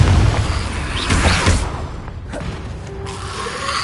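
Confringo fire-blast spells explode in Hogwarts Legacy gameplay on PS5, loud booming bursts with rumbling impacts and crackling debris through the opening seconds before easing off.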